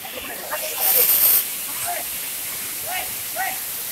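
Rushing water at Chapanala (Champabati) waterfall roars as a constant broad hiss, with faint voices briefly audible over it.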